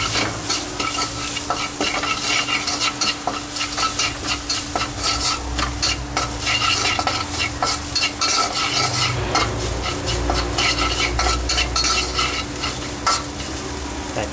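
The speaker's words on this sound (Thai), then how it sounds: "เอากระเทียมลงเกลียวก่อนนะฮะ เราจะเกลียวให้กระเทียมเหลืองกรอบก่อนนะครับ" Garlic fries and sizzles in a little oil in a wok while a utensil stirs it with constant scraping, loud and close, and no one speaks.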